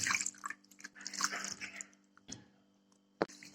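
Fresh chhena (cottage cheese), curdled with vinegar, is rinsed by hand in clean water, giving close, irregular splashes, sloshing and drips followed by a few quieter moments.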